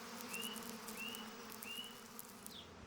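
Male bees buzz around bee orchid flowers, a faint, thin drone with soft passing whines as insects fly close, heard alone against a quiet outdoor background.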